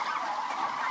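Turkeys on a turkey farm, a continuous chorus of gobbling and honking birds lasting about a second, fairly loud and dense with no voices.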